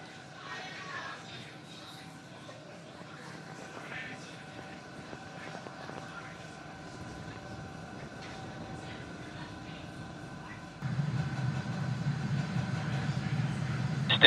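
A Falcon rocket's first-stage engines roar during the Axiom AX-1 launch of the first private mission to the International Space Station: a steady distant rumble that swells noticeably louder toward the end.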